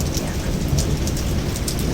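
Heavy rain pours steadily during a city thunderstorm, a dense close hiss of drops hitting surfaces with a low rumble underneath, no voices.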